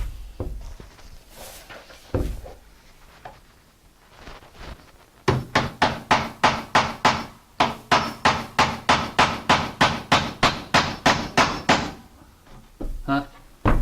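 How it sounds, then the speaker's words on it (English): Nails are hammered into a split jamb door casing with a fast run of about twenty sharp, loud, evenly spaced blows, preceded by scattered knocks and handling noise and a voice speaking briefly. "we're not going to nail it all the way in"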